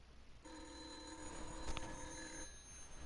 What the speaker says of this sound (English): my mom put like an old-timey phone down here